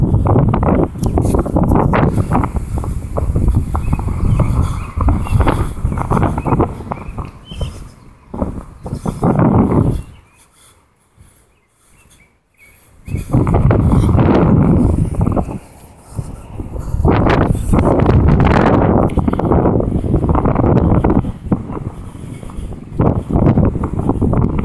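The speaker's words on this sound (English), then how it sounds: "The wind's going northeast." Outdoor wind buffets the microphone in loud gusting roars that pause briefly to near silence midway, then return in strong rumbling bursts.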